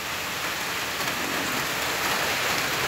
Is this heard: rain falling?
yes